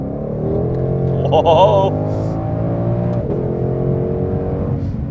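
A 2020 Shelby GT500 Mustang with 760 horsepower pulls hard under acceleration, a loud sustained engine drone with rising tones heard from inside the car, and a person exclaims partway through.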